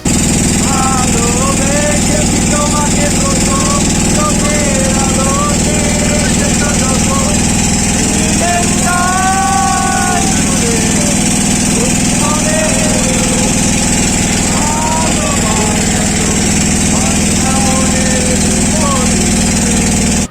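A trawler boat's engine drones loud and steady without pause, carrying on to Chhera Dwip near Saint Martin's Island, with faint voices now and then over the constant mechanical hum.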